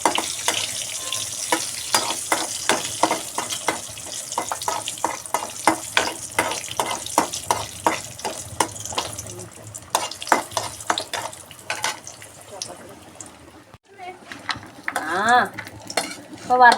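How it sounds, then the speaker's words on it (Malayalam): Cashews, raisins and cardamom fry in ghee for biryani, with a dense run of rapid spoon scrapes and clinks against the pan over a soft sizzle, close and regular, then slower knocks near the end. "നമുക്ക് കുറച്ച് അണ്ടിപ്പരിപ്പും മുന്തിരിയും ഏലക്കയും കൂടി വറുത്തെടുക്കാം."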